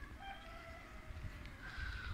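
A rooster crows in a farmyard, its drawn-out calls fairly faint and somewhat distant over a low rumbling background, with no one talking.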